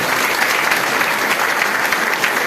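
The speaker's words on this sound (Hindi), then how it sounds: "एक जोरदार तालियों से आप अभिवादन करें" Audience applause at an event honoring a senior state president recognized by the governor, a dense steady wash of many hands clapping, loud and continuous throughout with no speech over it.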